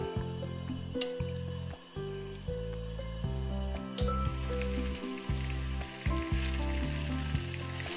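Tofu pieces shallow-fried in a pan with a good amount of oil give a continuous crackling sizzle, with low rumbling pulses and occasional spatters, close and fairly quiet.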